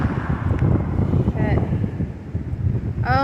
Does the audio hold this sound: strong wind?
yes